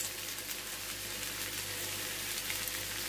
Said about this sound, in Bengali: এবার আমি পাস্তাগুলো সব দিয়ে এবার সবজির সঙ্গে ভালো করে নেড়ে চেড়ে মিশিয়ে নেবো